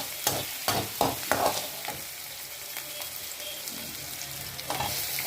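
Onions and tomatoes frying with mustard seeds in hot oil, a constant sizzling hiss broken by several sharp stirring scrapes and knocks of a spoon against the pan, close and loud without speech.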